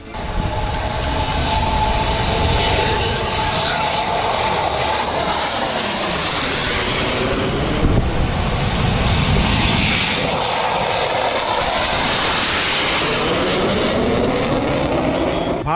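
Fighter jets, including Rafale, MiG and Jaguar, roar during landing and takeoff drills on the Ganga Expressway airstrip in Shahjahanpur, a loud continuous jet-engine blast with rising and falling sweeps as aircraft pass close by.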